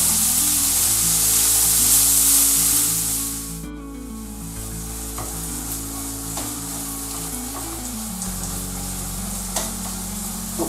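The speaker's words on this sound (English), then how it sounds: "So we're going to brown that, fry that now until it's nice and brown." Minced beef fries and browns in a pan, a close, steady sizzle with scraping and stirring, while a backing music track plays underneath.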